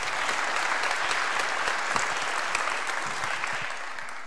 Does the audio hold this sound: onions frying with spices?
no